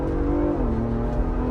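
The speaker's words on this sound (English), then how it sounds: "Spinning tires." A Ford Bronco Raptor accelerates hard on snow with its tires spinning, a loud, close engine roar whose pitch shifts as it revs.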